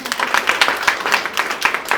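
A small crowd at a company success-story event claps in a loose rhythm, the individual hand strikes distinct and moderately loud, with some talk mixed underneath.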